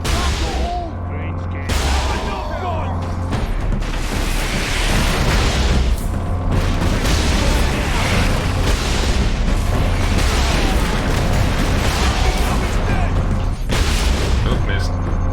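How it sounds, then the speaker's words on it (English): Ork rocket launcher explosions in the Warhammer 40k video game Space Marine, heavy booms and blasts rolling over each other in dense, continuous battle noise with almost no pause. "Orc rocket launchers on the high ground."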